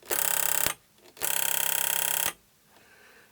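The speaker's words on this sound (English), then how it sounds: "Oh, it's only a buzzer." A GPO 704 telephone's buzzer sounds loud and close in two harsh electric bursts, one short and one longer, with a pause between and quiet afterward.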